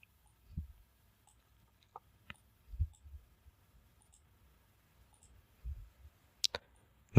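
Soft, sparse mouse clicks in a quiet room, a handful of faint isolated taps spaced irregularly, ending with a sharper louder click.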